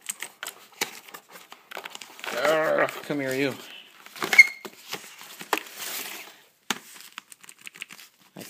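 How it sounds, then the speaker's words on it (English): Crinkly plastic wrapping rustles and tears in short bursts at close range as it is removed from a CM Storm QuickFire Rapid mechanical keyboard, with a brief spoken remark partway through. "So let me get this wrapping off."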